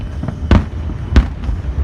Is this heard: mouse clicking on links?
no